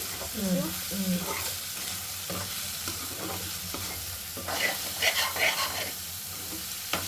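Drumstick curry with tomatoes sizzles and fries in a pan, with a spoon stirring and scraping through it in bursts; a faint voice speaks briefly partway through.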